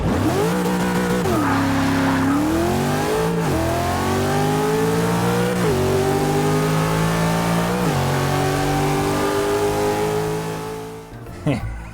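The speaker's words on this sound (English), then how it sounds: "Now this thing is going to sound pretty insane because of this turbocharged V8." Turbocharged V8 swapped into a Pontiac Aztek revs hard and accelerates, engine pitch climbing and dropping repeatedly through gear changes for about twelve seconds, loud and continuous before cutting off near the end.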